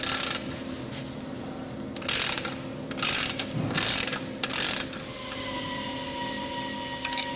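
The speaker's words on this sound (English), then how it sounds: "Remove the pad retaining strap screw." Wrench work on the pad retaining strap screw of a Meritor brake caliper: several short bursts of metallic ratcheting clicks come close up over a steady hum, with a quieter pause between groups.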